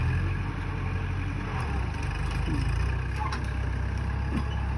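A tractor engine runs steadily on a farm while plowing and leveling garden ground, giving a close, constant low rumble with no voices over it.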